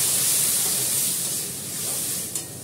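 Water poured into a hot pan of potatoes and dal sets off a loud, close steaming hiss that gradually settles, with a small clink near the end.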